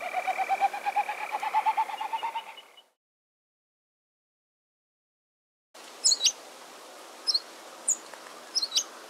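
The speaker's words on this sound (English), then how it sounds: "spooky ascending whinny of the common snipe." A common snipe gives its ascending whinny, a rapid pulsing call that rises in pitch for nearly three seconds, close and clear. After a silent gap, brief high chirps from another bird follow.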